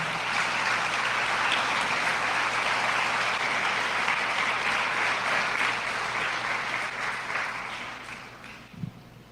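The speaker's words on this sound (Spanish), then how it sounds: "denle un aplauso a Dios por ello" A church congregation bursts into sustained applause, a dense, even roar of many hands clapping that holds steady, then slowly fades near the end.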